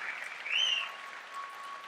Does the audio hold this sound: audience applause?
yes